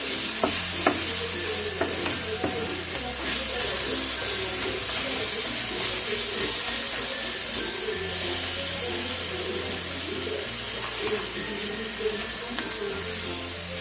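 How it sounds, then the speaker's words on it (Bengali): Tomatoes stirred with masala in a frying pan while making palak paneer: a continuous close sizzle with repeated scraping strokes of a spoon against the pan. "মিশিয়ে একটু নাড়াচাড়া করে নিলাম টমেটোগুলো যাতে গলে যায়"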